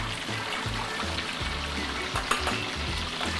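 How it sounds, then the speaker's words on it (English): Pork belly pieces deep frying in smoking-hot oil for a second fry, Thai style, giving a steady close bubbling sizzle with occasional low pops and crackles throughout. "Slowly put in pork belly for second fry."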